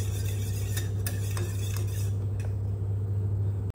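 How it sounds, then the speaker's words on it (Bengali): Kashmiri chili powder paste stirred in a bowl for a curd pointed gourd dish, a steady clinking and scraping of a spoon against the bowl under a constant low kitchen hum. "তো এইটা আমি এখন গুলে রেখে দেব ভালো করে।"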